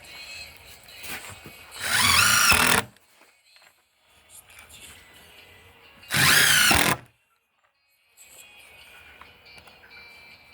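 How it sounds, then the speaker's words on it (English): A power drill drives screws into wooden boards on a chicken coop door, two loud, close bursts of whirring about a second long each, separated by quieter stretches of handling noise and faint outdoor background. "where I'm screwing down each, at least have 2 screws in each board"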